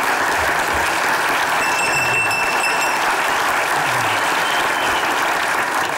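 Sustained, dense audience applause fills a television comedy show studio at a steady, loud level from start to finish, with no voices rising above it.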